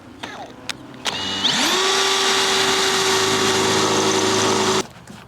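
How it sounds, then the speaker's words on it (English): A power drill boring placement holes while a Honda Civic is built with budget parts: a few short taps, then a steady high whine rises in pitch and holds for about three seconds before cutting off. "I'm gonna drill our placement holes."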